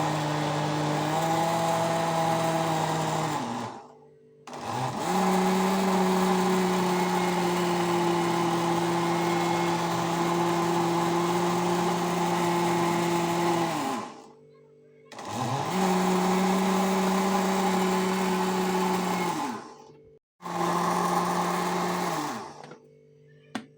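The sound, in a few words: blender grinding cooked beans for bissara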